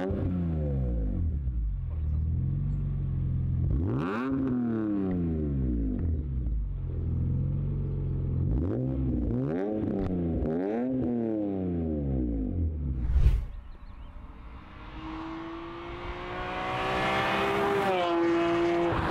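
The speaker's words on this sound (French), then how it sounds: "Elle fait pas mal de son. On va dire qu'elle a une petite ligne d'échappement." Car with an M346 engine and a sport exhaust revving hard several times, the engine pitch climbing and dropping in repeated sweeps, loud and close, then a burst and a steady high drone as the car pulls away.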